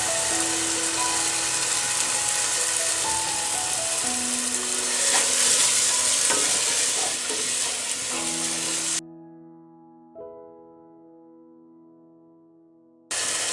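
Garlic chicken masala seasoned with salt, red pepper and garam masala sizzles and gets stirred in a pan for several seconds, then the frying cuts off abruptly, leaving quieter tonal sounds behind.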